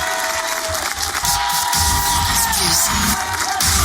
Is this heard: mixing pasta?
no